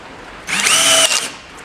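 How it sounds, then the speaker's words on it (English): A handheld power drill bores into scrap wood while a frame is being built. It makes one steady whirring run of about a second, fairly close and loud, with no talking over it. "I've got my 2 drills. I'm going to use one to make the frame."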